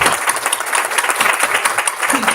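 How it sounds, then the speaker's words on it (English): Applause for students at a school district board meeting, a dense round of clapping with individual hand claps standing out, fairly close and continuous. "Another round of applause for our students."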